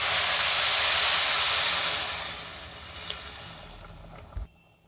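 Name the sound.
hot water poured onto rice in cooker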